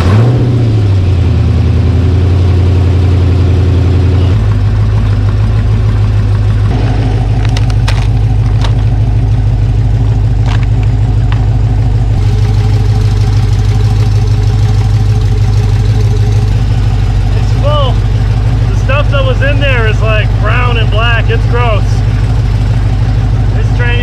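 Car engine idling while running in gear, a loud steady low drone throughout with shifts in pitch, close by, with people talking over it.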